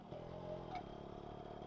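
A Yamaha RX 135 motorcycle engine runs with a steady, low mechanical drone, faint and at some distance, in open hilly countryside.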